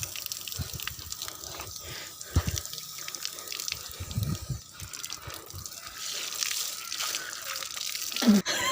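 A drinking-water tap runs steadily along a trekking route in Nepal, a continuous splashing rush of water with small irregular spatters and drips, fairly close, with no talking.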